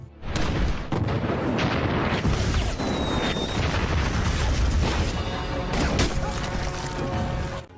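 Loud, continuous artillery barrage in an Iran–Iraq war film scene, with heavy booming blasts and rumbling explosions filling the whole stretch, a brief lull near the middle before more impacts crash in.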